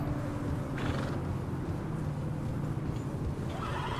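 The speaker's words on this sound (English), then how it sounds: "The horses are not happy." Uneasy horses in Red Dead Redemption 2 give a couple of brief neighs and whinnies over a low, rumbling ambient game background.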